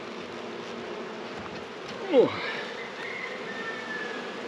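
Bees buzz around an open backyard hive during an inspection, a soft continuous hum at moderate distance, with one louder bee passing close by midway and a brief spoken exclamation.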